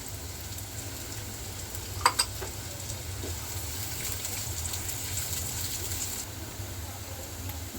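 Chopped garlic and onion frying in hot oil for chicken vegetable spaghetti, a soft constant sizzle with a couple of sharp utensil clacks near the start, heard alone without talk.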